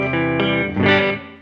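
A Gibson electric guitar on the neck pickup with the Varitone switch set to position 1 and distortion added rings out in a few sustained, saturated chords, loud and alone, fading at the end.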